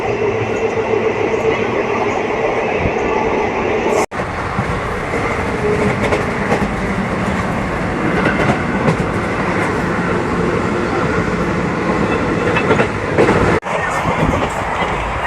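Sapthagiri Express rolling on the Chennai Central to Tirupati line near Puttur, a loud, continuous onboard rumble of wheels on rails with faint rhythmic clatter and a couple of abrupt dips.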